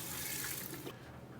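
Swanson's chicken broth pours into a cooking pot for Italian greens and beans with sausage, a quiet, steady splashing stream that cuts off near the end, leaving a faint hush.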